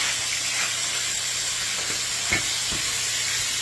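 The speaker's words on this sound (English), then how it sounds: "when the oil, garlic, basil sizzles" Oil, garlic and basil sizzle in a sauce pot, a steady close hiss with a few soft spatters and stirring taps across a few seconds.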